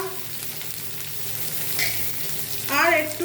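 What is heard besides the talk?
frying garlic, ginger and tomato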